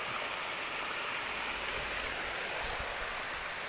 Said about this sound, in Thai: น้ำตกของเขา เป็นน้ำตกเล็กๆนะคะ